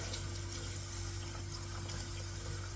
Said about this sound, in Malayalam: അപ്പം വെട്ടി തിളച്ച വെള്ളമാണ് ഞാൻ ഈ പൊടിയിലേക്ക് ഒഴിക്കുന്നത്.